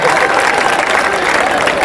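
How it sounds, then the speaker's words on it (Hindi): A live audience at a Hindi comedy poetry show claps loudly and continuously, a dense even wash of applause from a large crowd that holds steady throughout. "एक बार जोरदार तालियां बजाए साहब मिलके"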